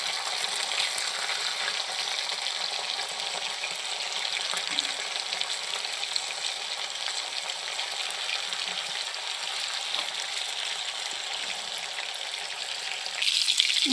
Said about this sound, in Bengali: একটু লাল করে ভেজে নেব চিকেন টিক্কাগুলো